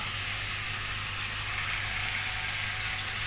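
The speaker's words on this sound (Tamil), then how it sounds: "எண்ணெய் நல்லா சூடானதும் நம்ம ஏற்கனவே மேரினேட் பண்ணி வச்சுருக்க சிக்கனை சேர்த்துக்கலாம்." Marinated chicken frying in hot oil in a kadai for Madras chicken curry, giving a steady, dense sizzle that holds evenly at close range throughout, with no voices.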